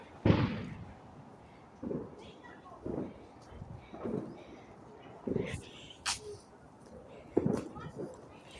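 Bonfire Night fireworks go off outdoors in a steady series of muffled booms and bangs, roughly one every second or so. The explosions sound moderately distant, with faint background noise between them.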